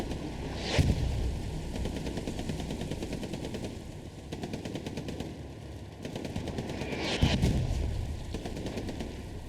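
Gunfire from a Puma armored car in a Hell Let Loose battle: bursts of rapid automatic fire run through the scene, with two heavy booming shots standing out above a dense, continuous clatter of battle noise and no talking.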